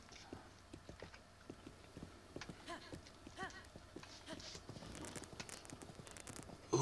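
Horse hooves clip-clop at a steady walking rhythm in the video game Zelda: Breath of the Wild, faint and even, with occasional talk over them.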